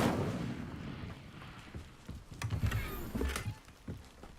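An Incendio fire spell is cast in the video game Hogwarts Legacy, heard as a series of sharp bursts and crackling impacts over a low rumbling game backdrop, moderately loud and close.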